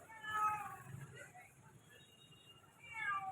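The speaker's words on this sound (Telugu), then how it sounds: "పిల్లి" A cat meows several times, faint and somewhat distant, with a drawn-out call at the start and another at the end over quiet background noise.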